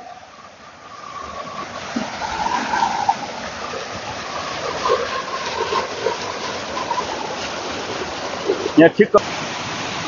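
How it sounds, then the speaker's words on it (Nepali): Water from a drinking water project rushes in a steady broadband roar into a chamber after rain, with a voice speaking over it and a few sharp knocks near the end. "ल हेर्नुहोस् यस्तो गतिलो पानी आइरहेको छ च्याम्बरमा"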